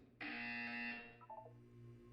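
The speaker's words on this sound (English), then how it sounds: "You will hear a buzzer. When you hear the buzzer, look up at the ceiling." A loud, harsh electronic buzzer in the game Portal 2 blares for under a second, followed by a few short lower beeps and a steady hum.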